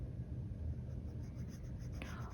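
A fountain pen nib scratches softly across paper while laying down orangey brown Birmingham Pen Co ink, a faint, close scribbling with brief strokes and a slightly louder scrape near the end.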